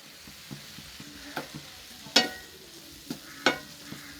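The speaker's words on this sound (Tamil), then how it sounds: "வாழைப்பூ பொரியல் செஞ்சிட்ருக்கேன்." Banana flower stir-fry sizzles gently in a pan over low heat while a spoon scrapes and stirs it in irregular strokes, close by.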